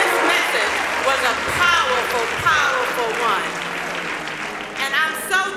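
Audience applause at a church event in Portsmouth, Virginia, with a voice speaking over it; the clapping runs steadily throughout, partly masked by the talk.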